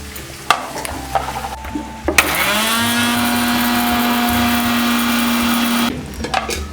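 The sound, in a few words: grinding roasted chilies and fennel into coarse powder in a mixer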